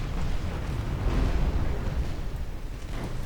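Naval gunfire from a German warship of 1899 strikes an enemy battleship in the game UA: Dreadnoughts, heard as a continuous deep rumbling roar of distant shell bursts that swells slightly midway and never fully fades.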